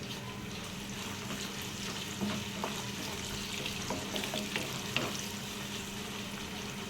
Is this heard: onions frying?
yes